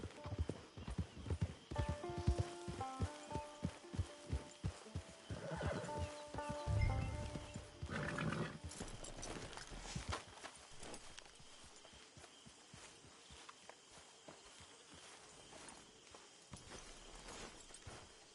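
Steady clip-clop of horse hooves walking in Red Dead Redemption 2 Online, with a horse neighing over a busy game soundscape; the hoofbeats keep a regular rhythm throughout.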